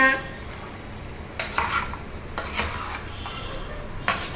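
Mutton pickle being mixed with plenty of oil in a pot, a spoon scraping and clanking against the metal in a few scattered strokes, with a soft oily sizzle underneath.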